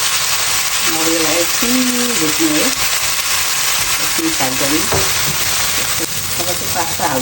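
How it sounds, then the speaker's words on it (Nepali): Chicken pasta ingredients sizzle steadily in a pan for a Nepali-style recipe, a close, constant hiss running beneath a woman's intermittent speech. "एकछिन भुट्नु हो एकछिन फ्राई गर्ने"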